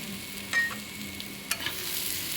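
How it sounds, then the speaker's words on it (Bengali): Poppy seed paste being stirred into kohlrabi and potato in a pan: a faint scrape of the spoon with two short clinks against the metal, over a low background hiss. "এটাকে একটু ভালো করে নেড়ে নিচ্ছি"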